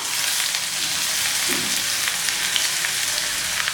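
Steady, continuous sizzling of onions frying in hot oil for chickpea curry, close up and even in loudness, with no voices.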